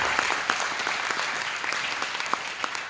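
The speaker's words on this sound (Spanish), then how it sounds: "Denle un aplauso al Señor." Congregation applauding during a bilingual Spanish-English Sunday church service, a steady dense wash of many hands clapping throughout, with sharper individual claps standing out and no talk over it.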